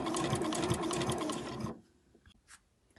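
A sewing machine stitches in a fast, close, steady whirr along the edge of an overlocker cover for under two seconds, then stops, leaving only faint handling noises.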